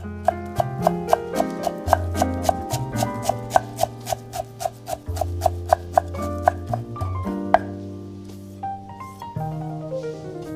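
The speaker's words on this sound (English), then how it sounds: "We chop up our small bunch of greens very finely." A knife finely chopping a small bunch of parsley and greens on a board, steady rhythmic taps around three per second, clear and close over continuous background music.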